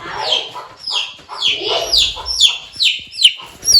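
Chickens cluck and squawk inside a house, a close, loud run of sharp repeated calls coming about every half second with no talk over them.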